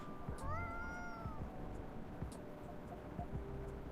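A cat meows in the café video game Coffee Talk 2, a couple of rising, drawn-out calls near the start over soft ambient hiss and faint scattered clicks.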